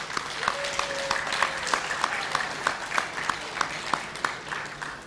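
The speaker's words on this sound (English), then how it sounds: "Let's give a round of applause to the Ladies Auxiliary for that breakfast this morning." Audience applause at a high school awards ceremony: a steady wash of clapping from a fairly distant crowd, with a few sharper individual claps standing out rhythmically over the dense patter throughout.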